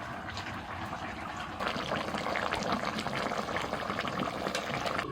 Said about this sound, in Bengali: মশলাটা ফুটে গেছে ভাজা মাছ দিয়ে দিলাম